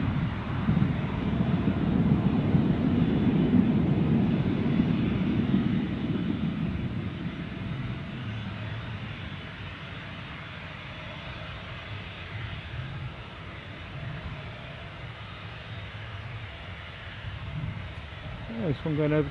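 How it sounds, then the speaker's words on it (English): A jet airliner taxis at Newcastle airport, a loud broad engine roar that is strongest early on and then eases to a steadier, lower rumble, with voices talking over it. "With our Bergen jet scooting into the pits."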